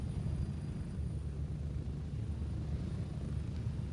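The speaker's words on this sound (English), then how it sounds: "That was the slowest takeoff I've ever seen." Aircraft engine drone during a slow takeoff in a video game, a steady low rumble that holds constant and fairly quiet throughout with no talk.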